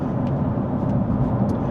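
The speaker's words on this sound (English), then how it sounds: "There's a wee bit of tire noise. We're sitting on the motorway at 70." Tyre roar from a Hyundai Ioniq 5 N on big chunky wheels cruising the motorway at 70 mph, a steady low rumbling drone heard from inside the cabin, constant and unbroken.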